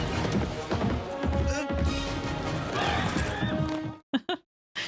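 A horse in a 1994 action film scene clatters with hoofbeats and whinnies amid crashing sounds and busy movie audio, with voices speaking over it before it cuts to near silence.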